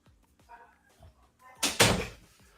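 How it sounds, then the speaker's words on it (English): A door shuts indoors with a loud, brief thud and rattle, preceded by a few soft knocks and shuffling footsteps in a quiet room. "Shut the door."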